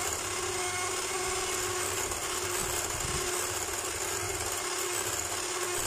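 An electric mixer beating whipping cream at high speed, a steady continuous whirring drone holding constant level throughout.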